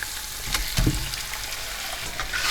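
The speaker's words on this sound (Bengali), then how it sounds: "এখন এর মধ্যে আমি সেই মেরিনেট করে রাখা মাংসটা দিয়ে দিচ্ছি" Marinated chicken fries in a spice paste in a pan, giving a steady, moderate sizzle with one soft thud and stir partway through and no talking.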